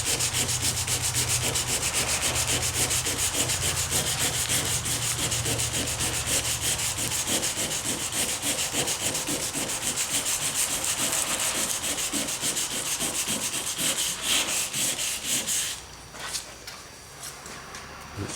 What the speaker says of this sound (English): I was going to use a Dremel. This is really fine, just enough to clean the rails